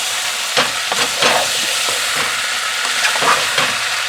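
Steak warming in a pan with water for a barbecue beef sandwich gives a loud, constant hiss and sizzle close by. Several scraping stir strokes break through it at irregular moments.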